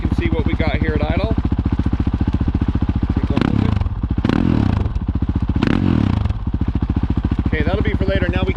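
A Honda CRF450L dirt bike fitted with a Yoshimura RS4 quiet exhaust idles steadily up close, a fast even engine pulse with brief bursts of wind or air rushing across the middle of the sound.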